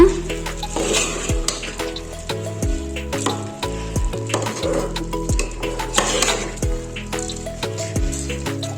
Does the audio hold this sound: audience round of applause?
no